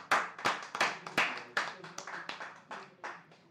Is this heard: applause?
yes